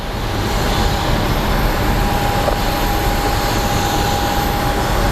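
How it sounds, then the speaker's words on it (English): A plane takes off at Phoenix Sky Harbor International Airport, a steady, loud broadband jet roar that holds for the full stretch with a faint whining tone running through it. "But that is a plane that took off."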